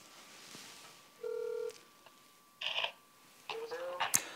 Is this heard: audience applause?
no